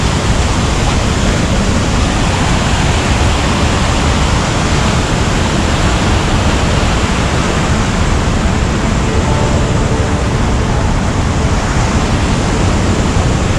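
Heavy surf pounds the shore at Karang Hawu beach on Java's south coast as the waves build higher, a loud, steady broadband roar of breaking water with no talk over it.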